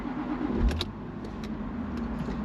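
A Jaguar XK R convertible's 4.2 engine cranks and catches, a brief low rumble followed by a steady idle with faint clicks and a whine above it.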